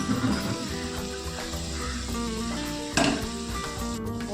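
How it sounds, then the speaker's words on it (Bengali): Boiled chickpeas hit hot oil in a pan and give off a dense, steady sizzle that runs throughout, with a brief clatter partway through. "এবার আমি সিদ্ধ করা ছোলাগুলো এর মধ্যে ঢেলে দেবো।"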